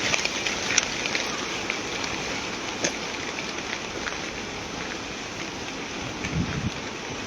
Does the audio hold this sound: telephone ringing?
no